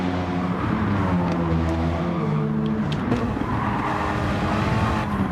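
Race car engines in the Gran Turismo video game on the Deep Forest track roar continuously and loudly, with shifting engine tones and faint tire squeal.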